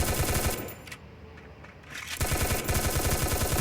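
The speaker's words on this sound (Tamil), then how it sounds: "என்னடா அடா எங்க சுடுறாங்களே" Rapid automatic gunfire in the mobile battle royale game Free Fire, loud sustained bursts of shots at the start, a brief lull of quieter game ambience, then dense rattling fire resuming close and loud.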